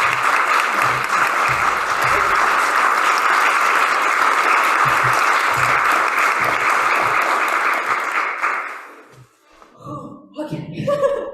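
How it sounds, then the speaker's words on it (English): An audience at a cabaret show applauds loudly and steadily for a musician, with a few chuckles mixed in; the clapping fades out near the end, and a voice begins speaking. "So please give us a huge round of applause."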